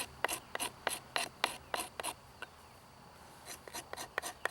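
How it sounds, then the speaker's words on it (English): A knife's 90-degree spine scrapes a wooden crook knife handle outdoors in the bush, giving a series of short, crisp rasping strokes in a regular rhythm, close and fairly quiet, with a brief pause midway. "using a 90-degree spine on this knife to just scrape a little bit"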